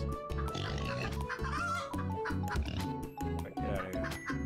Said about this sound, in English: Kill this pig.